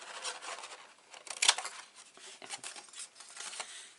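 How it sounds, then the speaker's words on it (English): Big scissors cut through craft card with faint, close snipping and rubbing sounds, one sharper crunch in the middle, in a quiet room. "I'm just going to take my big scissors and I'm just going to whack them off in half"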